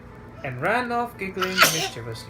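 A single sharp sneeze bursts out partway through a narrator reading a Little Miss Naughty and Mr. Worry children's story aloud, with speech on either side.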